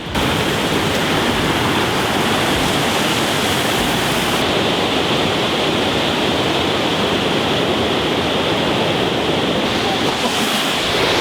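Steady, loud rushing water from a small waterfall fills the whole clip, a constant broadband roar without pauses.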